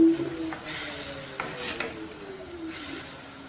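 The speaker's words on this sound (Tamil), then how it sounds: "அரை டம்ளர் தண்ணி சேர்த்து கொதிக்க விடுவோம்." A pot of mushroom soup with coconut milk, pepper powder and added water bubbles and hisses steadily at a soft simmer, close by, with a few light stirring sounds.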